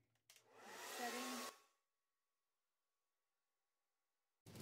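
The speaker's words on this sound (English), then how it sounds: "So I'm just going to leave my dryer here on warm." A hair dryer running on its warm setting blows with a loud, steady rushing whoosh for about a second before cutting off into silence, then a brief burst of noise returns at the very end.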